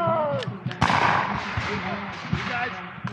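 At a Revolutionary War reenactment in Camden, a loud musket volley cracks out and booms across the field, with another distant shot later, while people talk nearby.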